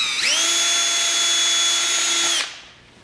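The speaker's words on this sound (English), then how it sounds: "So first I'm gonna drill the hole." A power drill whines at a steady high pitch while drilling a hole for a front bumper support on a 1973 Triumph TR6 under restoration, one sustained burst of about two seconds, then spinning down.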